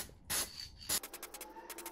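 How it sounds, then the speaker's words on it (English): Glossy white spray paint hissing from an aerosol can onto bicycle rims in two short bursts, followed by a run of quick, light spritzes, close and fairly quiet. "I use again glossy white spray paint"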